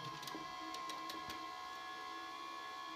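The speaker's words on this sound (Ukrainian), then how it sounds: "Катушка крутиться, все шепче." Wire feed spool of a Spika 250 MIG welder turning, a quiet steady mechanical whir with a faint hum and a few light clicks early on.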